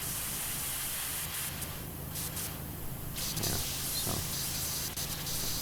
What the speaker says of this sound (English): Just spray things and clean them off